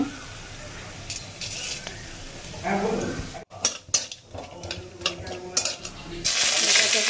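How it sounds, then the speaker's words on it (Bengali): Whole garam masala of cinnamon, cardamom, cloves and cumin dropped into hot oil: bursts of crackling sizzle with spoon scrapes and clatter against the pan, a brief voice early on, and a loud spitting surge at the end. "এবার দেখো এই যে গোটা গরম মশলা, এটা দিয়ে দেবো।"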